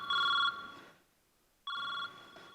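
Mobile phone ringing during a comedy sketch, two bright electronic ring bursts separated by a short pause, clear and close with no talk over them.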